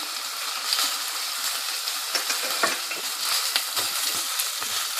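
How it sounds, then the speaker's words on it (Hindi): Steady sizzling of ginger-garlic paste frying in hot oil with onions, with crackling pops and occasional stirring scrapes, close and continuous with no talking. "अब मैं अदरक लहसुन का पेस्ट डालूंगी"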